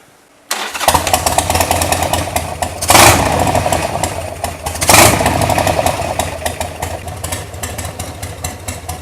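A 1998 Harley-Davidson XL1200C motorcycle engine fires up after a carburettor cleaning and idles loudly and roughly close by, with two short blips of throttle.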